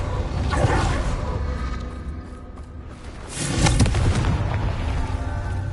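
Confringo fire spell from Hogwarts Legacy, booming explosive bursts with whooshing tails, one near the start and a louder blast around the middle that rumbles on, with no speech.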